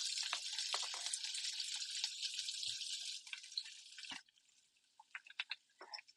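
Shallots in hot olive oil sizzle with a steady, bright hiss for several seconds, then die down to scattered faint crackles and pops, close by with no talk.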